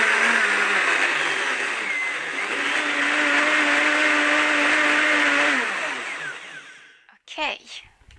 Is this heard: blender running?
yes